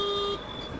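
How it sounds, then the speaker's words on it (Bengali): A vehicle horn blares once in busy morning road traffic, heard from an electric scooter rider's position, then cuts off abruptly to leave a low road rumble. "আরে ভাই সাইড দে, হর্ন মারছি"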